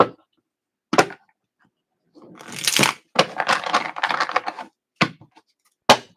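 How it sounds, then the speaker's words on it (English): Tarot cards are shuffled at close range: sharp taps and snaps come first, then a longer papery riffle, then more single card clicks, with no one talking. "So we've got a little more shuffling to do for you"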